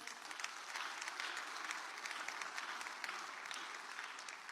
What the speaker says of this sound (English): Let's give Tato a round of applause